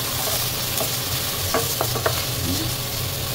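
Garlic, onion and ginger sauté in hot oil for Filipino pork adobo, a dense continuous sizzle up close with several short scraping strokes of a spatula stirring the pan, no voices.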